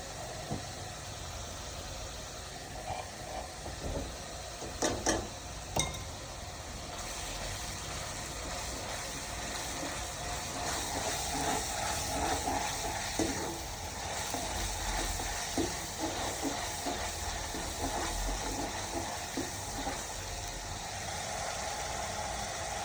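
Ginger, chili and garlic paste sizzles while frying in a pan, a steady, close crackle that runs throughout with a few sharper pops and stirring scrapes and no talk.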